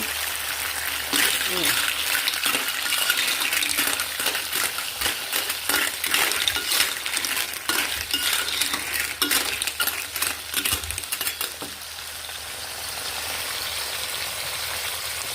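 Clams sizzle and clatter in a hot pan as they are stir-fried with garlic, a steady crackling hiss with metallic scraping and shell rattles, with a person speaking now and then.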